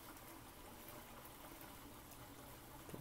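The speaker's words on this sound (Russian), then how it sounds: "Вот так вот у меня шумит водопад." A garden pond waterfall splashing in a steady, even rush of falling water, continuous and moderately quiet, heard from a nearby terrace with no voices.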